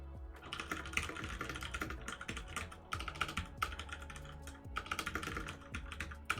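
Keystrokes clatter in a steady, uneven run on a computer keyboard, close and crisp, with short pauses between bursts as a single word is typed out, with a faint background hum and no talk.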